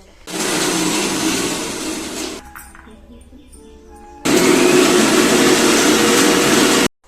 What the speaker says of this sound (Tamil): புதினாவை நல்லா அரைச்சி முடிச்சாச்சு